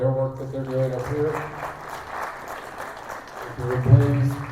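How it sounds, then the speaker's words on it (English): An audience at a feedback session claps in a steady crackling wash of applause that carries on throughout, with voices talking over it at the start and near the end. "let's give them a round of applause for all their work that they're doing up here."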